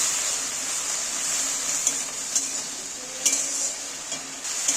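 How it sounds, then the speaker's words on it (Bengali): Ginger-garlic paste sautés in a hot pan with a steady, bright sizzle, broken by a few faint clinks of a stirring utensil. "এই আদা রসুন বাটাটা আমি এবার তুলে দিচ্ছি এখানে এবারে একটু কষিয়ে নেব"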